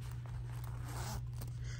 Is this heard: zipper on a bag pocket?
yes